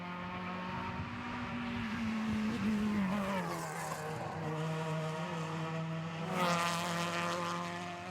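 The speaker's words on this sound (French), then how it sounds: "Thomas Jadot sur l'aire de départ avec une Opel Adam R2, la numéro 62" Opel Adam R2 rally car, number 62, at a Spa Rally 2016 stage start, its engine droning steadily near and loud with a rising rev toward the end, no voices over it.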